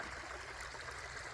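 Water draining out through a broken beaver dam in a swamp, a steady rushing trickle heard alone at low level.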